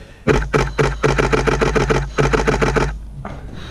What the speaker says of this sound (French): Ça, c'est de la rafale.